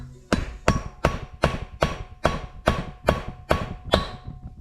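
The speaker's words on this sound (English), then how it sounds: "giving it a tap until you hear the tone of the hammering change, and that's when it's hit the bottom of the guide." A hammer taps a valve part down into its guide in a Ford Cosworth YB cylinder head, about ten sharp metallic strikes at an even, unhurried pace, close and clear with a ringing tone and no talk.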